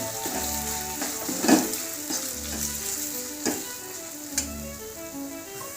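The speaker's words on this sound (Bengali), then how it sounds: "এবারে ভাজা মাশরুমগুলো উপর থেকে মিশিয়ে দিলাম" Fried mushrooms stirred into a sizzling masala, with salt already added and the oil separating, for a creamy mushroom dish. A soft, fairly quiet sizzle carries a few light clicks and scrapes from the spoon.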